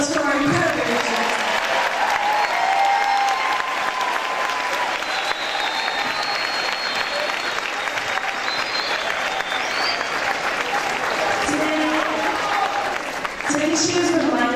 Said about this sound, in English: can we get one last round of applause for our incredible leaders?